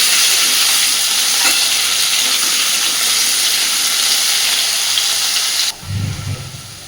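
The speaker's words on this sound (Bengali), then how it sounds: "আলুটাকে আগে ভেজে নেবো ভালোভাবে" Potatoes fry in hot oil, a loud, continuous close sizzle that holds steady before cutting off abruptly near the end, leaving faint low handling sounds.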